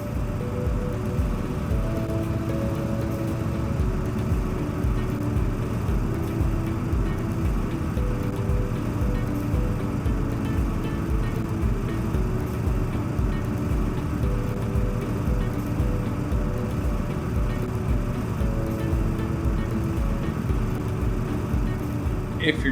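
A motor grader flat-blades material while cutting a V ditch, giving a continuous, close, rumbling diesel engine drone that stays steady throughout.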